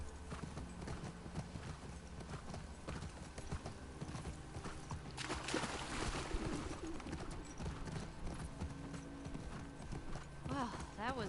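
A horse's hooves clop at a steady trot in The Last of Us Part II, under ongoing talk, with faint birds and a brief whinny near the end.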